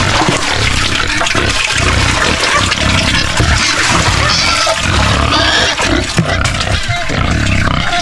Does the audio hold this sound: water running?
yes